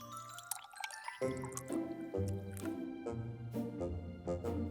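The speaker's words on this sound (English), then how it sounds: "now we're gonna pour some warm water on the top" Warm water poured onto a compost disc in a plant pot, a run of wet drips and splashy gurgles that start after a quiet moment and continue in uneven bursts, close and clear.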